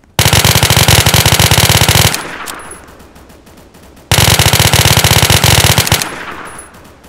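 Two long bursts of loud automatic gunfire sound in a shooter video game, each a rapid rattle of shots lasting about two seconds and trailing off into echo before the next burst.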